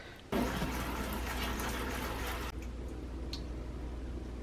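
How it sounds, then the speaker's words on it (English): Strawberries rinsed in a strainer under cold running tap water, a steady close gushing stream that starts abruptly, runs loud, then drops to a softer flow partway through. "Get them in the strainer, rinse them under cold water"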